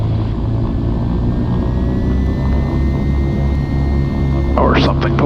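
Twin engines of an Aerostar 700 airplane held at 1300 RPM with props full forward and prop sync off, a steady, loud, droning hum that fills the whole clip, with a brief higher sweep near the end.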